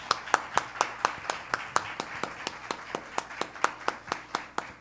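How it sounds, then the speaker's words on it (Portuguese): A small audience at a book event gives slow, evenly spaced claps, crisp and moderately close, steady through the whole stretch with no talk over them. "para quem eu peço uma salva de palmas"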